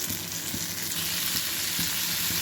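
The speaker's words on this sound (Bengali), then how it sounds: "টমেটোগুলো একদম উল্টায় দিচ্ছি" Tomatoes fry in a pan with a steady, close sizzle through the whole moment, and a few soft scraping knocks sound as the pieces are flipped over. No one speaks.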